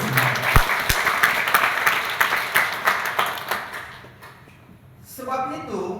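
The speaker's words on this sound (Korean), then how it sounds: "여러분 우리 주님께 영광의 박수 올려드리겠습니다" Congregation applauding in a church service, clapping with a loose pulse for several seconds before fading out, then quieter sounds and a voice speaking near the end.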